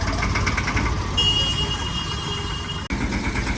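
A tractor engine runs hauling material on a farm, a steady low rumbling drone with a faint whining tone, loud and close, briefly cut by a sharp dropout near the end.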